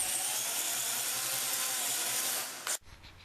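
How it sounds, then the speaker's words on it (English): A power drill bores a starter hole for a router bit in a wooden inner-cover template, a steady high whine for nearly three seconds before stopping abruptly. "Now we can drill a starter hole for the router bit."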